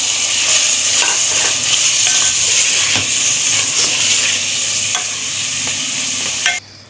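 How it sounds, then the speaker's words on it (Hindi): Minced beef with tomatoes and green chillies fries in a pan for aloo qeema, giving a steady, loud, close sizzle with faint scrapes and ticks, ending abruptly near the close. "ताकि ये कीमा भी गल जाए और ये टमाटर सौते हो जाए या भुन जाए पूरे"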